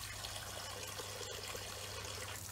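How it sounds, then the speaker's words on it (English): Water poured into an outdoor bird table makes a faint, steady trickle and splash that runs throughout, with no voices. "Fill that with water as well."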